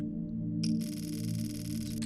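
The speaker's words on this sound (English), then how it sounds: "To make multiple photos and enter the burst mode, you need to press the shutter," A Vivo phone camera firing its shutter in burst mode: a rapid, continuous run of fine shutter clicks lasting over a second, heard close over a steady low hum.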